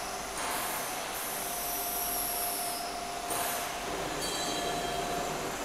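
A servo-driven, motorized cassette cladding roll forming machine travels along its rail, giving a steady, loud mechanical rumble with thin whining tones layered on top.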